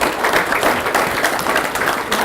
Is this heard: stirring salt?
no